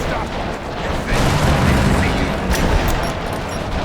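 Bomb blast and heavy combat noise in Rise of the Tomb Raider, a loud dense roar of booms and rumbling debris that fills the whole stretch with sharp bursts near the end.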